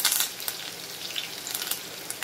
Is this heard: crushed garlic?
yes